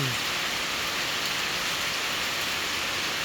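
Heavy rain pours down in Laos as a steady, dense, loud hiss of falling water with no pauses and no voices.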